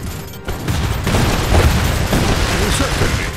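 Dense gunfire and explosions in the Iron Harvest video game, Saxony campaign, a loud continuous rumbling barrage of overlapping shots and booms, with game voices talking over it.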